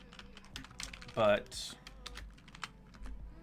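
Clicky computer-keyboard typing, quick bursts of keystrokes with a louder cluster near the middle, under occasional soft speech while coding during a live programming session.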